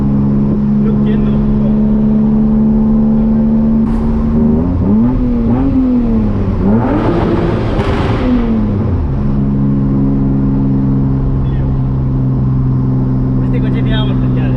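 A BMW drift car's engine idles with a steady low drone, then revs in rising and falling bursts around the middle before settling back, loud and close, with someone talking over it.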